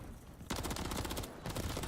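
Rapid gunfire in a Call of Duty: Vanguard esports match, dense bursts of shots rattling across the clip after a brief quieter start, loud and close with little talk.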